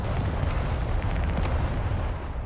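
Artillery in the real-time strategy game Broken Arrow thunders in loud, dense booms that roll into one another for a few seconds, heard alone with no speech.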